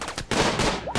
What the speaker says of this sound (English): We're going to fire a headshot at the guy up close with KV.